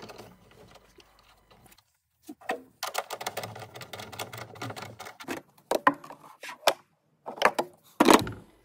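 Battery hold-down clamp going in beside the battery of an E86 BMW Z4 Coupe: a run of sharp, close clicks, taps and metallic knocks in irregular bursts, with quiet pauses and a louder clack near the end.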